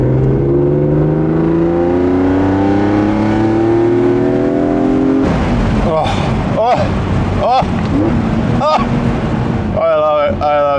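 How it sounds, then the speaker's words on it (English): A BMW M car's S54 engine revs hard, its intake rasping as the tone climbs in long sweeps, then snaps through a rapid series of sharp throttle blips, loud and close with wind noise over it. "You can hear the S54 swallowing air."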